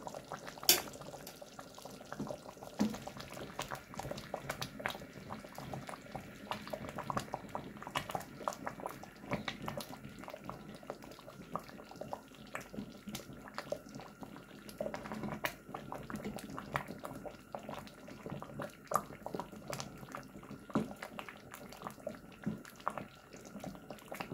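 Homemade winter tomato sauce simmers in a pot, giving a quiet, steady bubbling with frequent small pops and ticks that continue unbroken throughout, close and soft.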